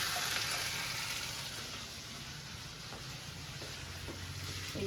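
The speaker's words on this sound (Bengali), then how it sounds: "আর এখানটা চলছে তোমার সয়াবিন রান্না।" A steady, close sizzle of soybean curry frying in a pan, with rice boiling nearby, holds evenly for the whole stretch with no talking.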